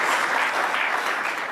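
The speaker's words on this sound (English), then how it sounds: "If all of you are awake, you can clap actually." An audience claps throughout at a keynote address by an AI company's CEO, a dense, steady wash of many hands close by with no talking over it.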